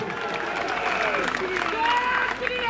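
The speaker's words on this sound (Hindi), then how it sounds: "जोरदार ताली" Loud applause from a rally crowd in Gorakhpur during a Holi gathering, a dense steady clatter of clapping that fills the whole moment with no break.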